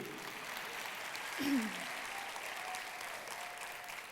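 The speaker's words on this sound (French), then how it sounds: "Et ça s'applaudit." Faint, distant audience applause at a thesis presentation final, a soft steady patter of clapping with a brief voice-like sound near the middle.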